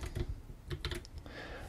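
Computer keyboard keys are pressed for shortcuts while working in Xcode, a quick cluster of clicky taps followed by a few more spaced presses, close and fairly quiet.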